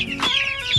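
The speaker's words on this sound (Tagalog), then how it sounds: "So ito yung mga manok namin," Chickens clucking close by, a busy overlapping chatter of several birds with a steady, lively texture.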